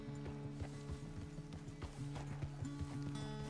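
Rhythmic hoofbeats of a horse in Red Dead Redemption 2 clip-clop along at a quick pace over a steady tonal music bed, with an occasional whinny-like sound and no talking.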